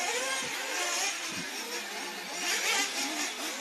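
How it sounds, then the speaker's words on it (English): 1/8 scale off-road RC racing cars pull in for early pit stops at the EFRA Euros finals, their small engines buzzing and whining steadily at mid distance, with a louder surge near the end. "I can hear a couple of other cars taking early stops"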